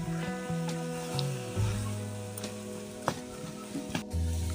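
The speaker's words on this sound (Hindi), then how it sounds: "अब इसे बस थोड़ी देर और अच्छी तरह भून लेते हैं ताकि ये शाइन हो जाए कलर इसका" Carrot halwa being fried and stirred in desi ghee gives a steady, close sizzle with occasional scrapes and clinks of the spoon against the pan, with no talking.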